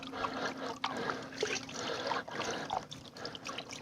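Water washing down a gold sluice after a gas-powered hammer mill run, a soft trickling and splashing flow with a low steady hum beneath, fairly faint and without talk.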